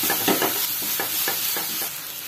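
Onion with green chilli and grated potato fries in a pan for a paratha filling, a soft sizzle under a regular series of scraping stirs, about five or six strokes in quick succession.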